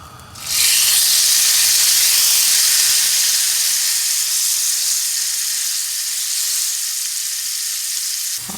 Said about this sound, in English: I'm just slightly pressing it down so I can get a nice even sear.